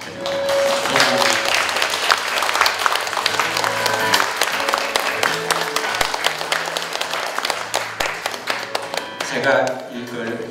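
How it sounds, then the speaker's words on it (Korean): An audience bursts into sustained, dense clapping at a book-launch memorial gathering in Jinju, Korea; the applause stays close and loud for about ten seconds while a voice speaks over it. "김정희 여사님 오셨는데 한번 큰 박수 한번 부탁드립니다."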